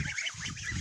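A goose on a Romanian farmyard honks repeatedly in quick, nasal calls, close and loud, in a short burst.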